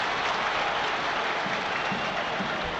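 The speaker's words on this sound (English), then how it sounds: "They applaud his perseverance and tenacity." Crowd at a Middlesbrough v Sunderland football match applauding a player, a broad, even roar of clapping that carries on through the whole moment without a break.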